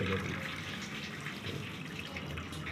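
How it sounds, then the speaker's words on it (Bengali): Hot tap water runs steadily over fish being rinsed in a sink, a continuous close splashing flow with no break. "এইভাবে মাছটা আপনারা ধুয়ে নেবেন"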